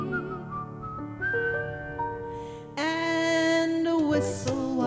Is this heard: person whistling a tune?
yes